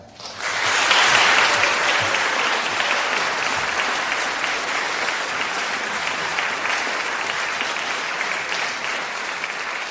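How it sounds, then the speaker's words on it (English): A concert audience in St Paul's gives loud, sustained applause that rises quickly and holds as a dense, even wash of clapping with no break. "And Julia, we'll clap for that."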